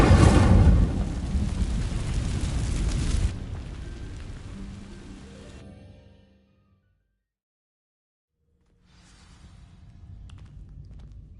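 An Incendio fire spell in the video game Hogwarts Legacy ignites dry vines with a loud, roaring burst of flame that fades away into silence, then a low, quieter rumble returns.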